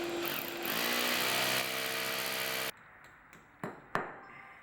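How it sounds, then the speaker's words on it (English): A 5/16 inch hammer drill bit bores 1.5 inch deep anchor holes for stainless steel screws, a loud steady buzzing whine that cuts off abruptly, followed by a few sharp knocks. "use a hammer drill to create anchor holes for the stainless steel screws"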